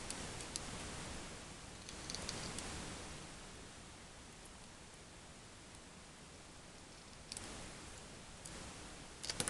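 Quiet snips and paper rustling as scissors cut paper around a stamp, with soft clicks scattered over a steady noise floor and no talking.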